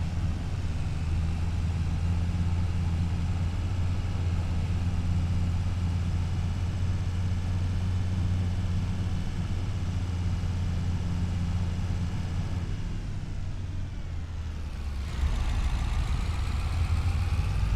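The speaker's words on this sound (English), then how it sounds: "This is the quietest diesel I've ever heard." Low, steady diesel engine idle from a farm truck in Farming Simulator 25, a continuous deep rumble with a constant hum that holds evenly throughout, briefly shifting in tone near the end.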